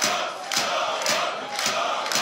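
Wrestling crowd at a SLAM! Wrestling Finland event cheering and roaring for The Rebel StarBuck, a loud, dense arena din with rhythmic chant-like surges roughly every half second, no talk over it.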